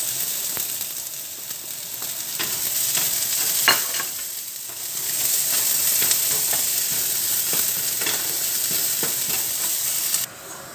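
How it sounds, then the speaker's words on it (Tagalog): Garlic and onion sizzle steadily in a hot pan, a continuous close frying hiss broken by occasional stirring scrapes and clicks of a utensil, with no voices. "At habang ginigisa natin guys yung sibuyas at bawang"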